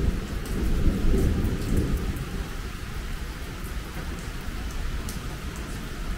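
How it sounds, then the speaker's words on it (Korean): A sudden heavy downpour at an apartment complex beside Gucheong Station, with a loud, dense roar of rain and low thunder rumbling through it, strongest early on and then holding steady. "천둥 번개도 치네."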